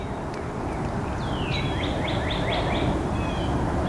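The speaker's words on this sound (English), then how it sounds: "also a cardinal singing over that way somewhere" A northern cardinal sings in woods in Dan Ryan Woods, Chicago, a series of about five clear descending slurred whistles, moderately distant over steady background hiss.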